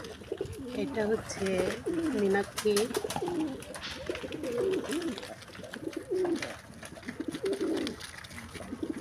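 Pigeons coo steadily at a pigeon farm, soft rolling calls repeating close by throughout, while a person talks over them.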